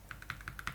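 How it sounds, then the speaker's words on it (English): Rapid, even clicks from a modded Wooting 80HE keyboard as its F2 key is tapped repeatedly, about eight light close keystrokes in quick succession, faint and without speech. "okay, just test the F2 key"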